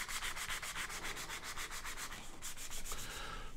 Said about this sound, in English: Now I'm just going to take some sandpaper and sand these really good.